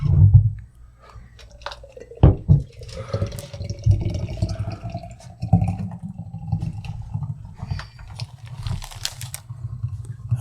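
Beer pouring from a tap into a pint glass at a radio studio visit about an Irish festival, with steady liquid gurgling and low rumbling bursts, close and continuous with occasional clinks.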